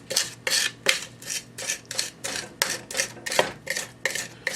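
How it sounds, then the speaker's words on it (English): A spoon mashing garlic with coarse salt in a mortar-and-pestle fashion, a close rhythmic series of about a dozen gritty scraping strokes at a steady pace, quiet and without talk. "we're going to take the spoon and you do like a mortar and pestle thing on it like this"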